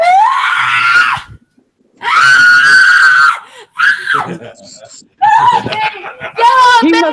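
A person screams loudly and at high pitch in several long, close bursts separated by brief silences, with some whimpering mixed in.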